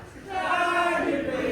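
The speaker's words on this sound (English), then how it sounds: "The crowd here in the library chanting the Bob the Builder theme at Ashmore." A wrestling crowd in a library venue chants the Bob the Builder theme in unison, a loud, sustained, tuneful chorus of many voices.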